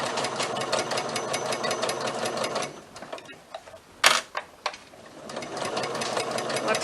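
A sewing machine back-stitches fabric for a pencil bag, running in a fast close rattle, pausing briefly with a few sharp clicks and knocks, then whirring on again.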